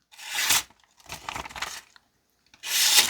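A Buck 791 Range Elite pocket knife blade slices through material in three short, crisp rasping strokes separated by brief silences, heard close up and alone.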